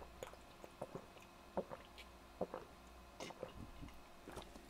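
Faint swallowing and gulping of drinking water, a few soft wet clicks and sips spaced unevenly over a quiet room hum, with no talking.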